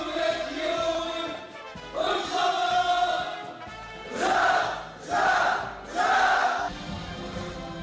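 Young railway workers at a meeting shout slogans in unison, a group chanting in strong rhythmic bursts, with two longer calls followed by three short, loud, evenly spaced shouts echoing in a hall.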